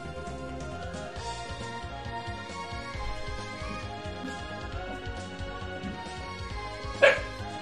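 A dog barks once, sharp and close, near the end, over steady video game music that plays throughout.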